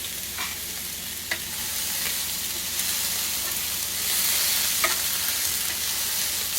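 A hamburger patty sears in a frying pan with a loud, continuous close-up sizzle and hiss, broken by a few sharp spatter pops and light clicks.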